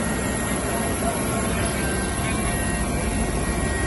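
A Sri Lanka Air Force rescue helicopter flies overhead, giving a loud, steady broadband engine and rotor roar that holds at constant strength for the whole stretch.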